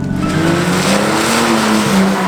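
A front-wheel-drive daily driver, loaded with wheels and tyres in the back, drifts with a loud, continuous tyre squeal over a rising and falling engine drone, close by and steady throughout.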